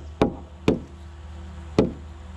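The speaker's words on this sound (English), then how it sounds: "Tap it in with the hammer." Three sharp knocks of a hammer tapping a wooden post-and-beam barn kit piece into place, evenly spaced then a longer pause before the third, close and crisp against a quiet background hum.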